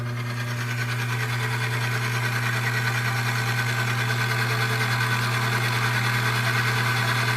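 A lubricity test machine runs with no weight added, giving a loud, steady mechanical hum with a fine rapid whir, constant throughout with no talk.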